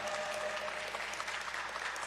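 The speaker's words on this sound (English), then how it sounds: "Give a round of applause for that." Steady applause from a crowd, dense and continuous clapping filling the whole moment without pause.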